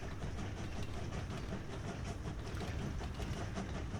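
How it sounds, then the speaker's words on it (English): Slow-moving train in the railway game Train Valley, a steady broadband rumble with faint rhythmic clatter running continuously at even loudness, no talk. "look how slow this train's going"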